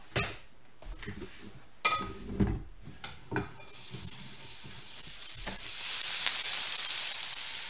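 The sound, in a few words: oyster cakes sizzling in a pan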